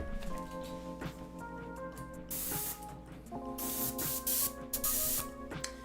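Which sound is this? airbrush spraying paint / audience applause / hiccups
airbrush spraying paint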